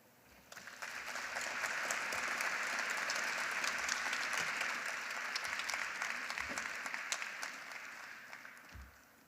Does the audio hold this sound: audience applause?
yes